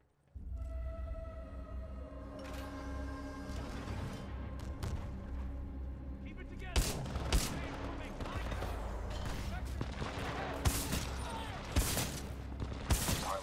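Gunfire in Titanfall 2 aimed at robots, a dense run of shots and bursts over a steady low game drone, with heavier impacts and booms standing out in the second half.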